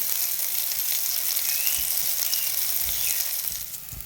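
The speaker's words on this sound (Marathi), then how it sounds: "आता आपण थोडस तेल परत टाकून आपण हे भाजून घेऊया" Soybean chunks roast in a little oil in a pan, a steady bright sizzle with faint occasional pops and scrapes, close and continuous with no talking.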